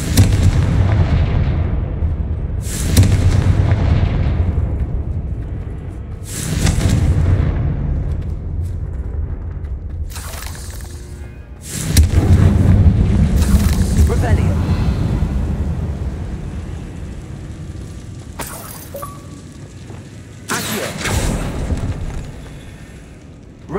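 Repeated booming blasts of the Confringo explosion spell in a Harry Potter video game, each a loud burst that rumbles and fades over a few seconds, about six in sequence with game sounds between.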